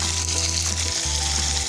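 Chopped green chilies and tomatoes fry in a hot pan with a loud, steady sizzle. A low hum underneath drops out briefly partway through, and there is no talk.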